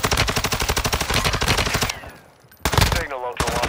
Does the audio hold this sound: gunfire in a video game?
yes